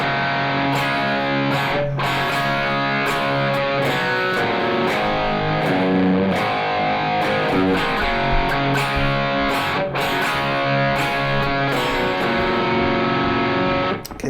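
Distorted electric guitar playing a riff, a dense, loud, continuous chugging riff with rhythmic chord stabs and muted accents, close and unbroken until a brief ending.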